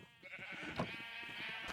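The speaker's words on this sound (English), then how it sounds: "Good sheep. Keep eating your grass." A sheep in Minecraft gives a short, faint bleat over a steady background tone, and nobody speaks.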